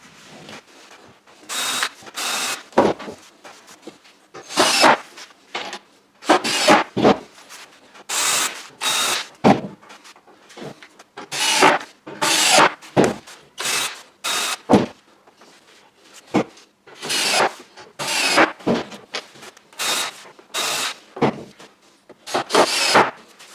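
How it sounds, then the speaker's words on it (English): Repeated short bursts of a power drill drilling pilot holes and driving screws into wood, a dozen or more quick whirring runs separated by brief pauses, close and loud. "drill a little quick pilot hole, one on each side, and put a screw in"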